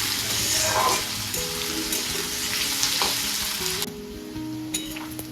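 Onion and potato sizzle steadily while frying in a pan, with stirring scrapes throughout; the hiss drops slightly partway as the heat eases, and small utensil clinks stand out near the end.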